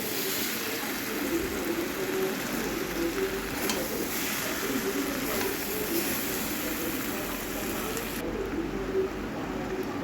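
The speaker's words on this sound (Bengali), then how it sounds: "এরপরে আবার সবজিটা নেড়ে নিচ্ছি" Pumpkin, potato and sprouted chickpea curry being stirred in a pan, a steady close sizzle and frying hiss running throughout with faint scraping.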